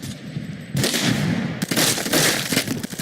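A KSG 12 shotgun fired in a video game: dense, loud bursts of gunfire and booming reports layered over one another almost continuously, with a short quieter stretch at the start.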